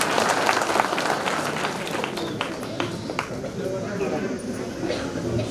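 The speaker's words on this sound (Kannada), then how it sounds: "ಜೋರಾಗಿ ಚಪ್ಪಾಳೆ ತಟ್ಬಿಟ್ರೆ" An audience at a village Basava Jayanti and Hemareddy Mallamma celebration in Hirenallur gives a steady, moderately loud round of applause. Scattered claps crackle over a dense crowd wash that stays fairly even throughout.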